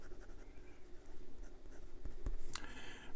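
A Gioia Partenope Fiamma fountain pen with a broad, wet nib scratching softly across paper in continuous strokes, close and quiet, with a slightly louder scrape near the end.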